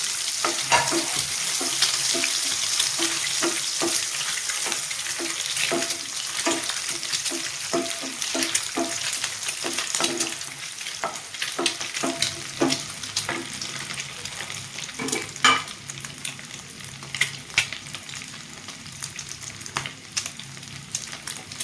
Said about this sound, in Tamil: இந்த முட்டையை அதில் போட்டு கொஞ்சம் நேரம் பொரிக்கணும்